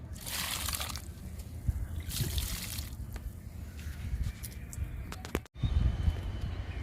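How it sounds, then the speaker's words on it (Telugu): Liquid fertilizer is poured onto garden plants in bursts of splashing and trickling, with a sharp knock and a brief pause before the pouring picks up again. "లిక్విడ్ ఇస్తున్నాను."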